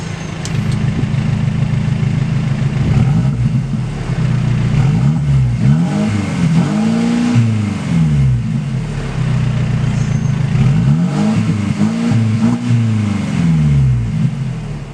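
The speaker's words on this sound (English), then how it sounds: "this car actually sounds pretty good. It has exhaust flaps that can open up in Sport Plus mode to make it even louder" A Mercedes-Benz SLC 300 roadster with a four-cylinder engine and exhaust flaps drones steadily and close, its pitch swelling and falling in repeated revs over constant road and engine noise.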